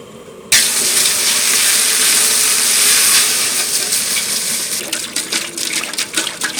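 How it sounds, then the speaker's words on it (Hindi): Water gushes loudly and steadily into a cooking pot, heated for boiling chicken chowmein in a village kitchen, then tapers into irregular splashes and trickles. "चलो पानी ढाली दियो।"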